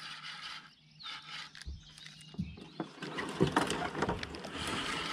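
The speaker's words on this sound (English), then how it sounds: "we're gonna have to paddle over there" Kayak paddle strokes splash and slosh in the water after a thunderstorm, soft and close, with irregular dips and drips and quiet background noise.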